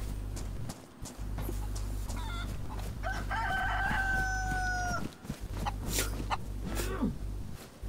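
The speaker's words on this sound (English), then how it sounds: "There's a chicken here somewhere, I've just heard it." A chicken crows in a video game, a clear rooster call rising over a steady low hum and scattered game sounds, sounding at moderate distance amid ambient farm noises.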